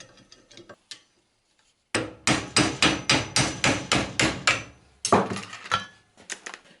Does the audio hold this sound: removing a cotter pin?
yes